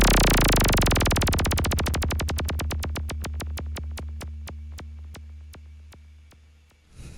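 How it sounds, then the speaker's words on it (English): Synthesized effects sweep from a Meld synthesizer: a rapid buzzing pulse train that slows steadily into distinct, widely spaced ticks over a sustained low drone, fading gradually before a brief swell at the end. "let's go ahead and make an effects sweep using the meld synthesizer"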